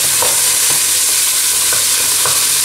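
Tomato paste hits a hot pan of darsa, an Algerian spice paste, for tbikha and is stirred, giving a steady loud sizzle broken by soft repeated scraping strokes at a regular pace.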